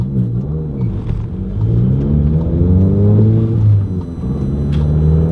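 Revving engine of a VW MK7 GTI fitted with a BFI Stage 4 clutch, loud and close, with rising and falling harmonic sweeps as the revs climb and drop across several seconds, with no talking.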